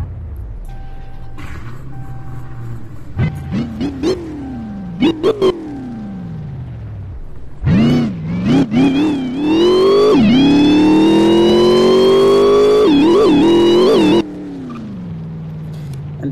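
A Dodge Charger Hellcat SRT engine, heard in a driving game, blips through several sharp revs that rise and fall, then roars into a long, loud sustained climb before cutting back to idle.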